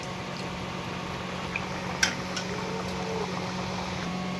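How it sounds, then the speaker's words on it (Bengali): Litti, a stuffed dough ball, frying in hot oil, giving a steady, even sizzle with a low hum underneath and one brief sharper crackle near the middle. "এবার এই যে তেল গরম হয়ে গেছে, তেলে ছাড়ছে।"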